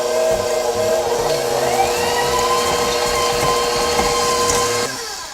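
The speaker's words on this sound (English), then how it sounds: "We have brown sugar, regular white sugar, and we're just going to mix that together until it is nice and creamy." An electric mixer creams butter with brown and white sugar in a bowl, giving a steady loud motor whir that shifts pitch slightly as it runs and then cuts off near the end.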